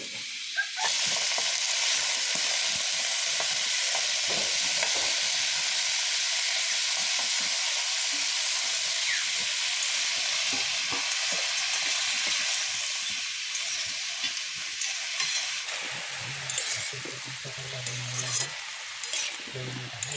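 Cumin seeds sizzle loudly in hot oil while being stirred, the start of a maan kochu stem curry with rohu fish cooked by a tribal grandmother; a steady, close frying hiss with stirring scrapes runs about twenty seconds, easing slightly near the end.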